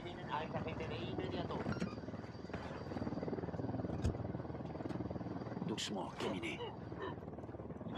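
A helicopter's steady rotor drone runs throughout a Ghost Recon Wildlands gameplay session, low and continuous under background game effects, with occasional sharp clicks.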